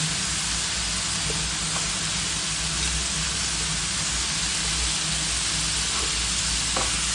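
Pointed gourd dropped into a fish curry frying with cumin, coriander and chili, a dense steady sizzle and crackle throughout with occasional faint ticks, no voices.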